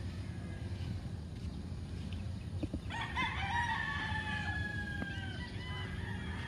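Roosters crow at a game fowl farm, several overlapping calls rising from about the three-second mark over a steady bed of farmyard noise and clucking, moderately close.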